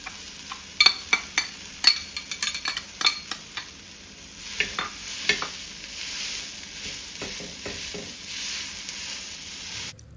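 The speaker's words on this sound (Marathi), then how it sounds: "खूप सारा भात शिल्लक आहे तर त्याला ना असा मस्त तव्यामध्ये फोडणी देते आहे" Leftover cooked rice is tempered in a hot tava, a crackling sizzle marked by quick clustered clinks and scrapes of a spatula that ease into a softer steady frying hiss.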